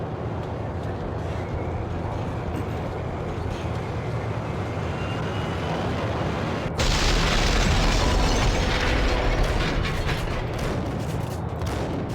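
A grenade blast in the Max Payne video game, heard as a steady rumbling background that erupts partway through into a louder sustained boom with scattered crackling debris.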